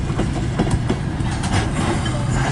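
A CN M384 eastbound freight train hauled by three engines rolls steadily past close by in Port Huron, Michigan, with a dense continuous rumble and faint clickety-clack of wheels on rail, no voices.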